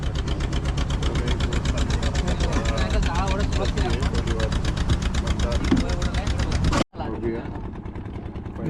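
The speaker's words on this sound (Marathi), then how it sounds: "साईडून इकडनं बोट जाते" A motor boat runs past on Bankot creek during net fishing, its engine a steady, close, droning throb that holds loud and even before cutting off abruptly near the end, then resuming more faintly.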